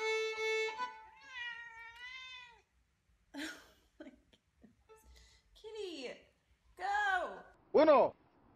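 A cat meows several times up close, long drawn-out wails followed by shorter rising and falling cries, with quiet gaps between them.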